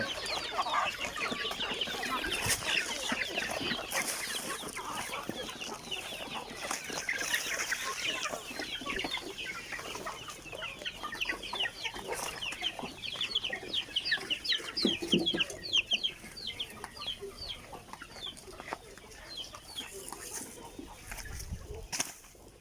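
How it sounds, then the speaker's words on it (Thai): Backyard chickens cluck busily at evening feeding time, a dense, fairly quiet chorus of overlapping clucks and calls close by, continuing steadily with no talking. "ไก่ช่วงให้อาหารไก่ช่วงเย็นๆครับ"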